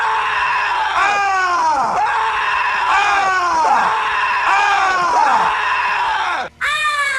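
A soldier in a war film screams as loud as he can, a long run of strained, wavering cries that repeat with falling pitch, loud and close, then breaks off briefly before one more yell.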